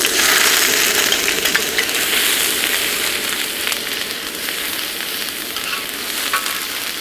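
Ground ginger-garlic paste sizzles loudly in hot oil on a tawa, a dense crackling hiss with scraping stir sounds, close and continuous, no talk.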